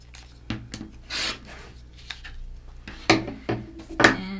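Scissors snip and rasp through quilt fabric trimming a quarter-inch seam allowance, several short cutting and rubbing strokes up close in a quiet room.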